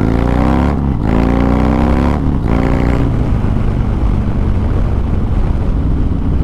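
A Harley-Davidson Softail Fat Bob fitted with an S&S 128 cubic-inch engine and 475 cam pulls hard in second gear, its loud, close exhaust rising steeply in pitch, shifting, and climbing again before settling into a heavy steady roar.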